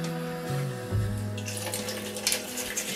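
Tap water pours steadily into a sink beneath a pot at close range, a continuous splashing rush that shifts in pitch as the pot begins to fill, with a few clinks of the pot against the basin.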